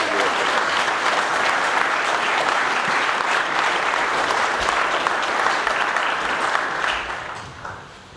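Sustained applause from a large audience at an identitarian conference speech, dense steady clapping filling the room for about seven seconds before tapering off near the end.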